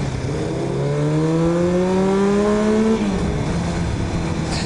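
A Kawasaki motorcycle engine revs loudly and climbs steadily in pitch through the gears, then drops back, a close, sustained roar in a city setting with no talk.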